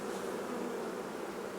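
Honeybees buzz in a dense, steady drone at an opened hive while a beekeeper checks drone brood for varroa, the hum close and constant throughout with no talk.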